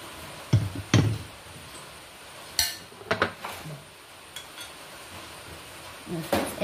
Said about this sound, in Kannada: ಬೌಲ್ ಟ್ರಾನ್ಸ್ಫರ್ ಮಾಡೋ ಫ್ರೆಂಡ್ಸ್